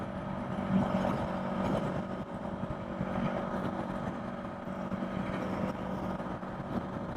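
Kawasaki Eliminator small-displacement motorcycle engine cruising at about 70 mph on the freeway near 6,000 RPM, a steady droning hum mixed with constant wind roar, close and unbroken throughout with no talk.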